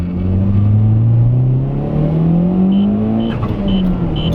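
A 2011 Mitsubishi Evo X on a stock clutch accelerates hard from inside the cabin, its engine note climbing steadily in a loud continuous drone, then dipping briefly at a shift before rising again, with faint electronic beeps.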